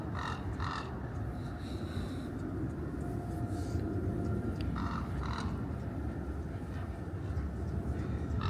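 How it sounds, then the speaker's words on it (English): A crow or raven calls a few times in short harsh bursts among cemetery graves, moderately close, over a steady rumbling background of wind or distant traffic. "Is the crow talking to me? Or the raven?"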